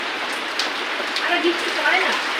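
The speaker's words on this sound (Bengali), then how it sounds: "বৃষ্টির মধ্যে সারা জায়গায় জল চ্যাকচ্যাক করতেছে" Rain falls steadily outdoors where cooking is being done in the open, a dense broad hiss of drops with small splashes and patters scattered over it, continuous and close throughout.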